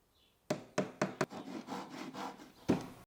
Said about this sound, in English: Tap gently with the hammer